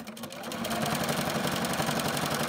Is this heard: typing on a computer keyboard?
no